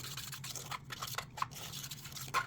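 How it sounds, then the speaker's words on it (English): A spoon scrapes and swishes through dry gelatin and pure cane sugar in a pot, giving soft, irregular gritty strokes over about two and a half seconds, close and quiet with no voices. "dry goods, gelatin and pure cane sugar. Now let's stir them up"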